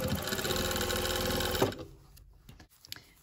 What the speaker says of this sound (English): just stitch all of these layers together so that it's easier for me to attach